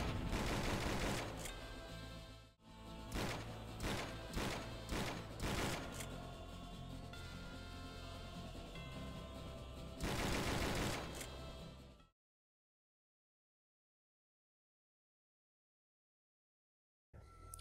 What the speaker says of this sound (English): The revolver is a long-range semi-automatic weapon with okay damage.